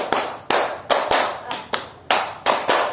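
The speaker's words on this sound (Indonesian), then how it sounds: "Tepuk 1, tepuk 2, tepuk 3, tepuk 4, tepuk 5, tepuk 5 2 kali" A class claps together in a counted pattern, sharp loud group claps landing at a steady pace, about eight in quick succession with short gaps between.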